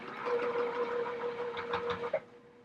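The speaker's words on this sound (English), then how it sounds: "So as I'm sewing, I pay attention" A sewing machine stitching a quilt block runs in one short, steady burst of rapid mechanical whirring that stops abruptly near the end. It is close and alone, with no voices.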